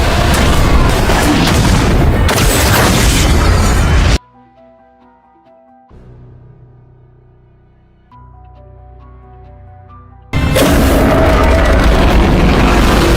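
Explosion destroying a warship in a Godzilla film: two loud, dense blasts of roaring rumble separated by a quieter musical stretch of sustained tones, with no speech.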